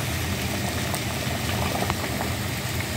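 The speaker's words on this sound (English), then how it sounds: "So here's the water is boiling, getting all nice" Water boiling in a pot on a stove, a steady dense bubbling and rushing hiss that holds evenly throughout with no voices.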